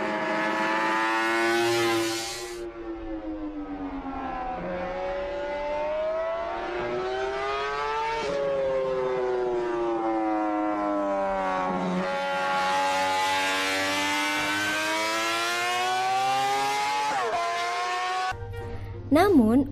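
A 1966 Honda RC166 250cc four-stroke racing motorcycle engine screams at very high revs, holding a sustained, harmonically rich wail that climbs and dips through gear changes for nearly twenty seconds, ending abruptly.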